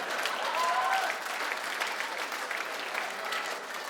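Comedy show audience applauding at a stand-up set, a fairly faint, steady wash of clapping from a crowd lasting a few seconds.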